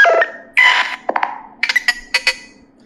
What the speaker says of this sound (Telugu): నోటిఫికేషన్ సౌండ్స్ వచ్చేసి అది కూడా సేమ్ 10 ఇస్తుంది.